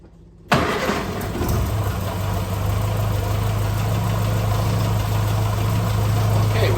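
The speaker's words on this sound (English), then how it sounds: "So let's get the engine fired up and give it a try." A-Series engine fitted with SU HS2 carburetors cranks and fires after a brief silence, then settles into a steady, loud idle with a constant droning hum and mechanical vibration close by.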